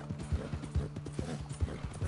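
Hooves of a tired horse clip-clopping in a steady rhythm in Red Dead Redemption 2, with windy noise behind and a low hum throughout.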